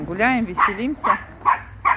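Chihuahuas out for a walk at a kennel on a cold day give short, high yaps in quick bursts, mixed with and under a person talking nearby.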